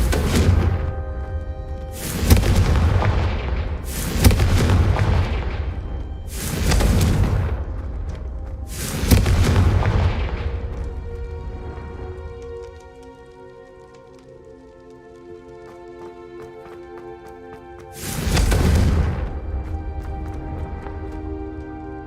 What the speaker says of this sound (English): I suspect a bit more time practicing the blasting curse is in order.